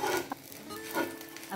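A bread omelette sandwich frying in a pan, a soft steady sizzle broken by a few short scraping or pressing touches, quiet and close, with no talking.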